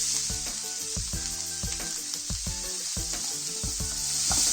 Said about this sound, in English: Let's stir this well